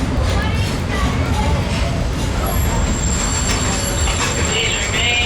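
Walt Disney World Railroad train at Frontierland Station, a loud continuous rumble of the moving train with rail noise and faint high squeals, steady throughout.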